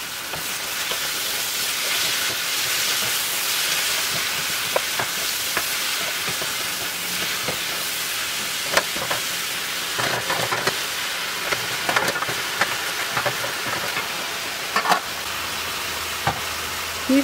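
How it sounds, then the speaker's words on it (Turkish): Chopped spinach sautés on high heat over fried onions with a sprinkle of salt, a continuous hissing sizzle with scattered crackles and pops from the pan, with no talking. "Bir tatlı kaşığı tuz serperek bulandırmadan ıspanakları yüksek ateşte kavuralım."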